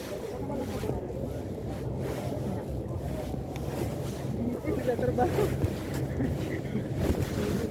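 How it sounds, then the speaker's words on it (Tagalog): Cold wind blows steadily and loudly across the microphone outdoors, a continuous rushing roar with gusts swelling toward the end and faint voices mixed beneath it. "Malamig ang hangin, Leng."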